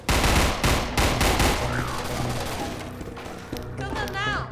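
Rapid gunfire in the zombie shooter Zombie Panic Source, loud bursts of close shots that thin into scattered fire, with excited voices shouting over the shooting.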